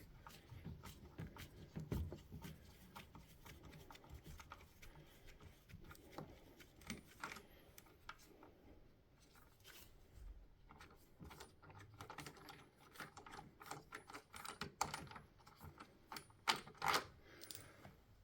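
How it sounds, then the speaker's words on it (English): A screw holding a dishwasher circulation motor is wound out, giving scattered faint metallic clicks, ticks and small rattles, irregular and quiet with soft handling noise between them. "So the first thing I'm going to do is wind out the screw holding it all in."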